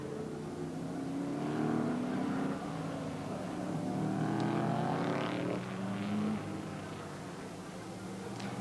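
Sports sedan race cars from the 1978 championship at Baskerville circuit roar past at racing speed, engines rising and falling in pitch with gear changes, loud and continuous with no talk.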